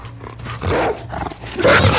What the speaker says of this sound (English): Dogs are the f***ing worst in this game.